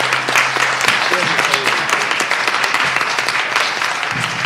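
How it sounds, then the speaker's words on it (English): A room of people applauds fourth graders after their performance at a school board meeting, a busy, close wash of clapping with voices and murmurs mixed in throughout. "Let's give our fourth graders another big round of applause."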